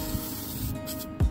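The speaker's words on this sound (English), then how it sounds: "So what we're gonna do is we're gonna spray the wire well." PB Blaster penetrating oil sprayed onto a wire wheel in a brake job on an old Chevy or GMC, a steady aerosol hiss running the whole moment before a short louder burst near the end.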